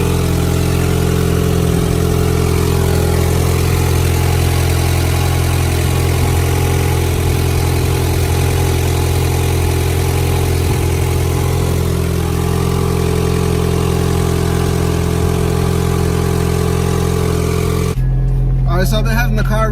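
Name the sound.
Acura Integra car engine idling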